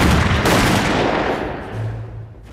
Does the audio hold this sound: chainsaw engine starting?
no